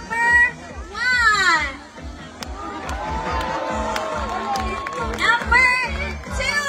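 Audience at a Kapamilya Karavan show in Birmingham shouting and cheering in a loudness contest, with bursts of high excited voices rising and falling near the front while an announcer talks between the waves.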